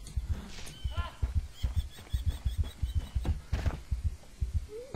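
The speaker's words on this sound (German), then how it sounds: "Warum wird der Herzschlag schneller?" A steady thumping heartbeat in the horror video game Once I Was Blind pulses low and regular, quickening slightly, with brief clicks and a voice speaking over it.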